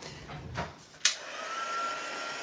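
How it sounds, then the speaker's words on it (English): A handheld heat tool blowing hot air to melt embossing powder starts with a click and then whooshes in a steady, close airflow hiss for a couple of seconds. "I'm now going to take my heat tool and zap it for a little bit."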